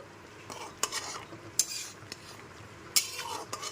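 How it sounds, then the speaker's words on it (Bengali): Stirring papaya curry with fried lentil bori in a pan: a few distinct scrapes and clinks of a spoon against the metal pan over a faint background sizzle, with no talking. "বড়িগুলো দিয়েও খুব ভালো মতো একবার মিশিয়ে নিচ্ছি"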